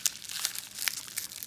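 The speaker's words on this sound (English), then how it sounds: "Some bubble wrap." Bubble wrap handled while unpacking Double Masters 2022 Magic card booster packs, a short burst of close, soft crinkling and rustling with a few sharper crackles, no voices.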